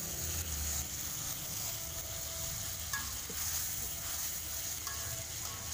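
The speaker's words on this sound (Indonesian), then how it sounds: "Kita aduk-aduk sampai matang ya Bunda" A blended spice paste sizzles steadily in melted butter as it is stirred for Indonesian soto tangkar, with a constant frying hiss and occasional scraping of the utensil against the pan, and no talking.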